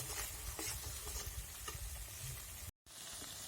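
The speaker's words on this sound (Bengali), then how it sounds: "এবার খানিক সময় আমি মশলাটাকে ভাজবো।" Spice paste with turmeric, salt and a little water fries in a pan for a small hilsa fish curry. A soft, steady sizzle with faint stirring is broken by a brief silent gap.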